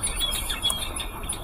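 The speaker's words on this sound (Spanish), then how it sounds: "Aquí hay unos periquitos como este amarillo y negro." In a park, small yellow and black parakeets give a brief burst of sharp, high chirps and tweets over a faint outdoor background.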